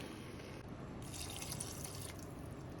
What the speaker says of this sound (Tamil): நான் இப்போ அதில் 1 மடங்கும் நார்மல் வார்ம் வாட்டர் 1 மடங்கும் யூஸ் பண்ணுறேன்.